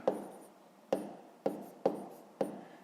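Handwritten numbers for a fifth-grade math exercise go down in five sharp pen or chalk taps, each a quick stroke followed by a short scratch that fades, spaced roughly evenly and heard alone.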